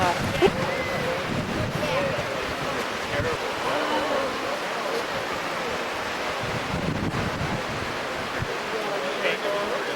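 Wind blows hard across the microphone outdoors at a wedding, a steady rumbling roar throughout with faint voices underneath.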